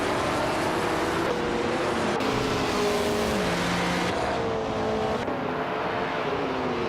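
Race cars, led by a 39-year-old Porsche 908/2 Spider, roar off the start at NOLA Motorsports Park, engines revving and shifting continuously as several cars pass at close range, loud and without voices.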